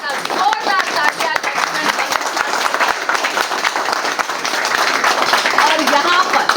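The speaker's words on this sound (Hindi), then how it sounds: "तो जरा जोरदार तालियां" An audience claps loudly and steadily at a political rally in Delhi Cantonment, a dense rattling applause that keeps going throughout and swells a little toward the end.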